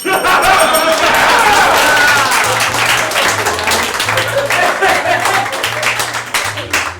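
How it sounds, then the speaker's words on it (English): Audience at an improv comedy show breaks into loud, dense applause mixed with crowd chatter and scattered laughter, close and sustained throughout, with a voice talking underneath. "All right, decent applause from the audience"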